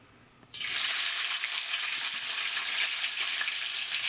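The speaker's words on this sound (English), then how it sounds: "Now that the sauce is done, we want to saute off our peppers here." Peppers dropped into hot oil for tacos burst into a loud, steady sizzle after a quiet moment, the frying hiss staying close and continuous to the end, with no talking.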